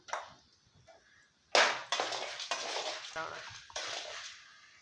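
Chana dal and urad dal tossed into hot oil in a pan for Tamil-style sago upma give a series of sharp clattering and sizzling bursts with stirring scrapes, fairly close and loud, with no talk.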